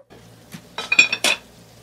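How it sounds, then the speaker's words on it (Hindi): A metal lid is set onto a cooking pot of dal on a low flame, making a few close, sharp clinks and rattles in quick succession against a quiet background. "फ्लेम को लो पे रखेंगे और इसके ऊपर लिड लगाएंगे।"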